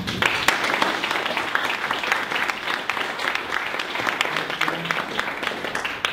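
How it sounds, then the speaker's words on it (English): Sustained audience applause greets speaker Derek Mehraban at a business-to-business marketing talk, with dense steady clapping filling the room from start to finish and no voices standing out. "Let's give him a round of applause, Derek Mehraban"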